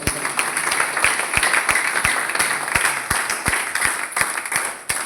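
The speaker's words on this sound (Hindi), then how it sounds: "एक शानदार ताली होनी चाहिए हमारे साथ" A crowd applauds steadily for several seconds, dense clapping with a few sharper individual claps standing out, loud and close.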